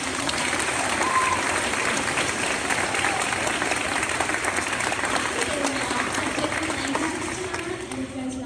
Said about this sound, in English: Let's give them one more great big round of applause.